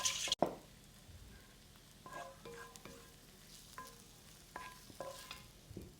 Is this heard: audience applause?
no